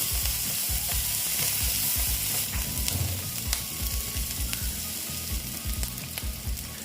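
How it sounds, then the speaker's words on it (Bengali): Grated garlic fries in a pan for a Bengali egg and potato dhoka dalna, giving a loud, dense sizzle broken by rhythmic scraping stir strokes, no speech. "এবার আমি ভালো মতো এটাকে কষিয়ে নেব"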